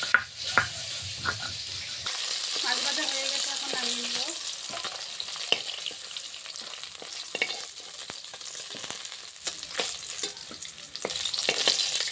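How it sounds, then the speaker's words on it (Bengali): Small fish frying in hot oil, a constant bright crackling sizzle with faint scattered clinks and scrapes throughout, no talking. "সবগুলো মাছ ভেজে নেব"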